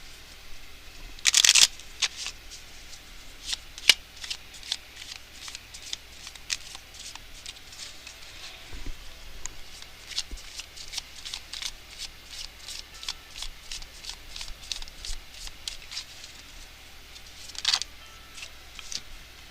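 Tarot cards being shuffled by hand, a steady run of soft riffling and flicking taps over about twenty seconds, with a sharper burst of card noise near the start and another toward the end, close and fairly quiet.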